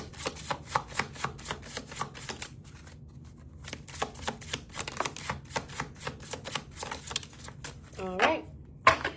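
Tarot cards being shuffled in quick repeated riffles and ruffles, a dense patter of close papery bursts that pauses briefly and resumes, with a faint hum underneath and a short voice near the end.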